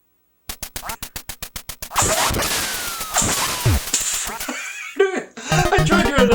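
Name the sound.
person imitating a duck quack into Konami Laserscope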